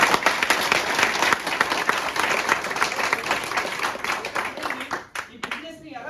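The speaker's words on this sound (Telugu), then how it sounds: "ఒకసారి మన బాలి సార్ గట్టి క్లాప్స్ ఇద్దాం" A crowd at a Vestige business meeting claps loudly and steadily for a speaker, dense applause filling most of the moment before thinning out near the end.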